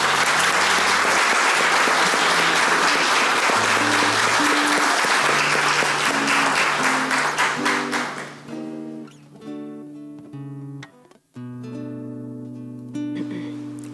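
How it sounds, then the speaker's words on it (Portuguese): Loud applause fills a municipal council chamber in honour of Fabiana, dense clapping for about eight seconds over a sustained musical tone, then fading as the music carries on alone. "Uma salva de palmas a Fabiana."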